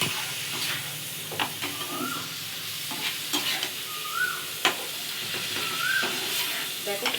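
Chili powder and turmeric sautéing in oil in a pan for a spinach paneer dish, a steady close sizzle with occasional stirring scrapes and soft knocks.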